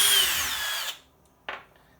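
A power drill on low drive spins out a bolt from a Honda Insight G3 battery module, a short whirring burst that winds down, followed by a brief metallic clack.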